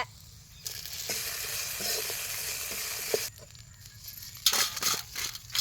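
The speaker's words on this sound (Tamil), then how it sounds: "எண்ணெய் ஊற்றி புளியங்காயை வதக்கலாம்." Raw tamarind sautés in hot oil in a pan, giving a loud crackling sizzle that starts abruptly, runs for a few seconds, then drops to softer stirring scrapes and bursts of frying.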